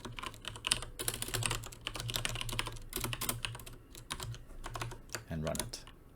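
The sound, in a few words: typing code on a computer keyboard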